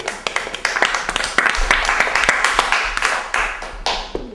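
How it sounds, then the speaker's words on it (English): Audience applause from a crowd at a talk on the foreclosure crisis, a dense patter of many hands clapping close by, steady and lively throughout with individual sharp claps standing out. "I will take that applause very seriously"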